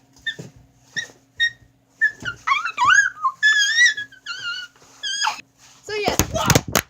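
A person imitates a playful dog whimper and yap, giving a string of short high squeaks and whiny yips that rise and fall, ending in a sharper burst of vocal noise.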